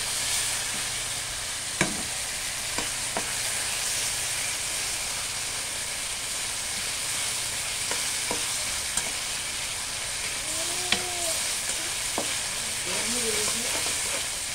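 Ginger garlic paste with turmeric, chili and coriander powder and salt sizzles steadily in a hot pan, with occasional sharp spoon scrapes while stirring and a few faint, brief vocal sounds in the background.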